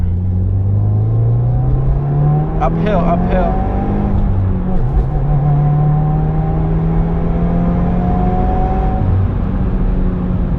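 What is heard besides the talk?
turbocharged car engine revving while accelerating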